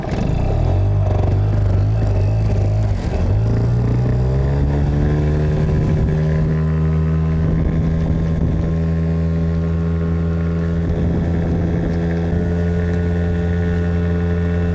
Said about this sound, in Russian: Так, наверное, моторчик прогрелся. Давайте пробовать. Включаем ход.